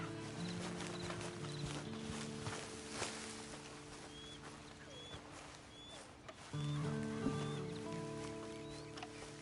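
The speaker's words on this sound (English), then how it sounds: "Then you better get on this horse." Horse hooves clip-clopping in the video game Red Dead Redemption 2, a steady walking rhythm over a layered game soundscape with sustained background tones and occasional bird-like chirps, growing slightly louder toward the end.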